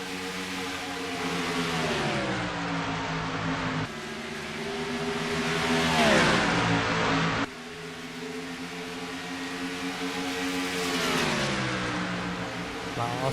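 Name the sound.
race car engines in a NASCAR racing video game at Dover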